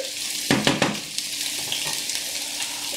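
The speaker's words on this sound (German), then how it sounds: "jetzt lasse ich es in Ruhe, lasse ein bisschen anpacken, also ein bisschen anbraten" Food searing in a hot pan for Grenadiermarsch, a steady close sizzle and hiss throughout, with a few light clinks of a utensil against the pan near the start.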